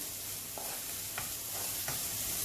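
Onion cooking in a pan with a sprinkle of salt gives a steady, soft sizzle with a few light stirring scrapes spaced through the short stretch, no voices.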